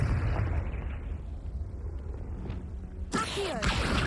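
Confringo fire spell blasting in the Hogwarts Legacy video game: a sharp burst hits near the three-second mark over a steady rumbling game background, followed by crackling debris and a short tonal sweep.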